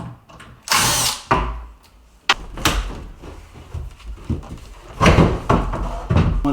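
A cordless power drill whirs in short bursts while backing screws out of a kitchen cabinet, interspersed with knocks and cabinet door clatter, close and fairly loud in a quiet room.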